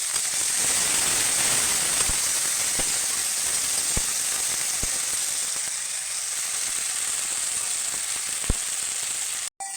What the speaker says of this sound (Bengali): ভালো করে জল দিয়ে মশলাটাকে ধুয়ে দিয়ে দেবো